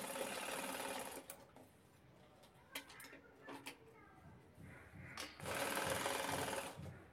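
A sewing machine runs top-stitching on a handmade bag with a zip and lining, in two fast, loud whirring bursts with a quieter stretch of clicks and handling between them.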